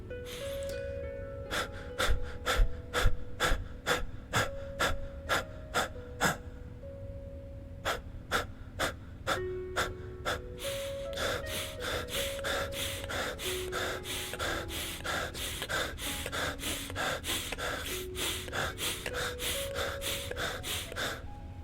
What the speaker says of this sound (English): You can get high from shamanic breathing.